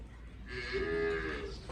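A Cholistani Friesian cross cow gives a single drawn-out moo, fairly close and clear over a low background hum, with no talk.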